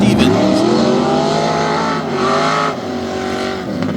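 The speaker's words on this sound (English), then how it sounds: "Travis Stevens with the small block Chevy taking off on Thomas Faust" A tough truck with a small block Chevy engine accelerates hard off the line at a competition, its loud, rising engine roar with steady harmonics filling the whole moment while an announcer talks over it.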